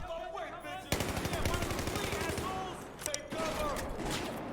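Rapid automatic gunfire in the video game Battlefield 4, with dense bursts of shots that start abruptly and continue with a brief break, loud and close, with a voice occasionally underneath.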